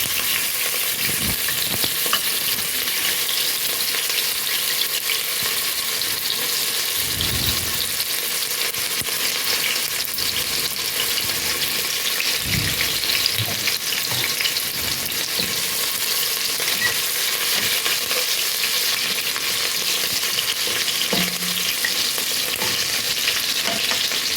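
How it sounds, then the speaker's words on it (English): Steady crackling sizzle of onions frying in hot oil, continuous throughout, with occasional soft stirring knocks underneath. "I'm going to add the onions to it, to the oil when it's hot."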